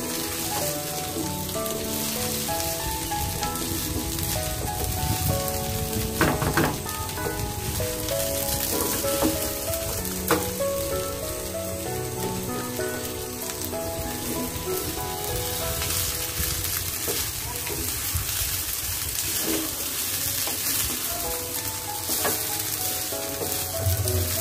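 Pulao rice for chicken biryani cooks in a pan already seasoned with spices, giving a steady, loud sizzle and crackle of frying that continues alone throughout, with occasional scrapes and clinks.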